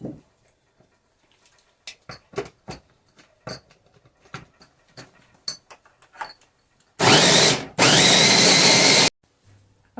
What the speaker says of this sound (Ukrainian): перець, цибулю і гіркий перець буду подрібнювати на подрібнювачу блендері